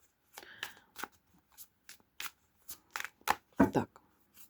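Tarot cards are shuffled in quick, crisp bursts of riffling and snapping, close and fairly quiet, with short pauses between.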